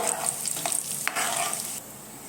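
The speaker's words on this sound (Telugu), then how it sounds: "మినప్పప్పు వీటినన్నింటినీ కాస్త బ్రౌన్ కలర్ వచ్చేంత వరకు వేయించుకుందామండి" Chana dal and urad dal frying in oil in a pan for lemon rice, a steady bright sizzle with occasional stirring scrapes, close and continuous with no talk.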